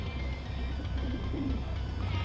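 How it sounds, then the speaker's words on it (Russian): Pigeons coo softly in the game Dreamfall Chapters, a few low murmuring calls rising over a steady ambient hum of the city setting, with no voices. "Голуби."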